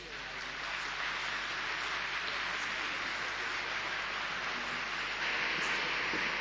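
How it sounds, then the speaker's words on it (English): Conference audience at the Durban COP17 climate talks claps steadily, a dense, even wash of applause like heavy rain, moderately distant, sustained without break for several seconds. "this clapping is for you"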